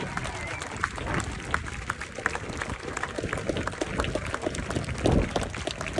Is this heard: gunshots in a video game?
no